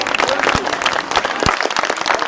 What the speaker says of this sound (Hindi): एक बार जोरदार तालियां बजाओ भाई।